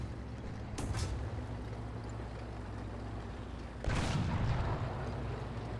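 Two heavy, booming blasts from a tank cannon in a tank battle video game, one early and one near the middle, set against a constant low engine rumble.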